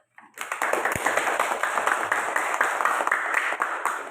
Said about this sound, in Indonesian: Nah, silakan tepuk tangan.